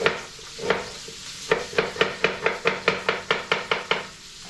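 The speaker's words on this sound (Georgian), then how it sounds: "დავჭრათ ნიორით." Garlic being chopped with a knife on a cutting board while preparing lobio, about fourteen close, fairly loud knife strikes, sparse at first and then settling into a quick, even rhythm, with no talking.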